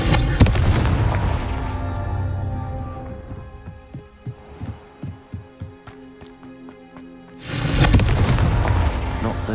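Confringo blasting spell explosions in Hogwarts Legacy: a loud booming burst opens, a run of quick thudding impacts follows, then another heavy blast rumbles out near the end.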